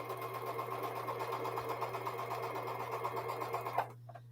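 A sewing machine chain pieces four-patch quilt blocks, running steadily with a close, even whirr and a low constant hum, stopping abruptly near the end, with no voices.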